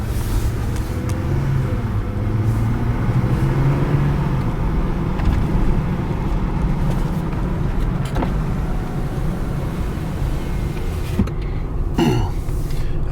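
A Jeep Wrangler JL drives along a road at night with a steady rumble of engine and road noise, tyres humming continuously and a few faint clicks and knocks over the top.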